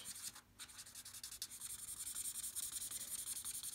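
A colored pencil or pastel rubs back and forth over an earlier layer of color on paper to blend two shades, a close, quiet, steady scratchy rasping in quick repeated strokes.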